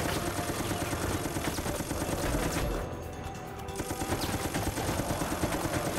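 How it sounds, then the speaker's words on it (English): A Gatling gun in Resident Evil: Operation Raccoon City roars in a dense continuous stream of rapid fire, briefly dropping out near the middle before resuming, loud and sustained. "But with a Gatling gun."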